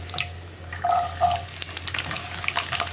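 Garlic sautéing with mustard seeds and dried chillies in oil, a light sizzle with scattered crackles and small spatula clicks, close, brief and without talk, over a faint background tone.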